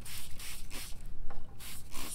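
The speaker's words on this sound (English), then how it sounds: "spray your coffee filter." A handheld spray bottle misting water onto a paper coffee filter in repeated short bursts, each spritz a breathy hiss with brief pauses between pumps, close and clear with no talking.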